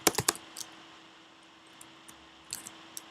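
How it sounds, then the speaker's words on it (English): Quiet bursts of typing on a computer keyboard, a quick cluster of clicks at the start followed by sparse, isolated keystrokes close by in a hushed room. "Let's say we are typing"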